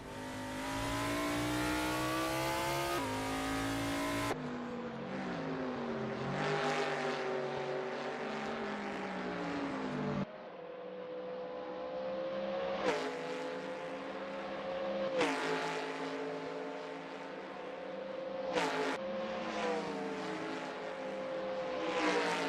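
Cobra series race cars in the SimSpeed racing game rev and shift gears as they accelerate through Clubhouse Bend, engine whines climbing and dropping repeatedly, loud and close with no talking.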